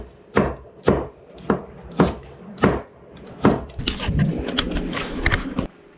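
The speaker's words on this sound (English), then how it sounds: "Cutting this garlic into thin little strips." A knife chops garlic into thin strips on a board, giving six sharp, evenly spaced close-up strokes. A denser stretch of rapid scraping and chopping follows before it stops.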